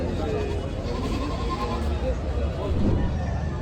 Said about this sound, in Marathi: इकडं सुद्धा उस्मानाबादीमध्ये शेळ्या आहेत बघा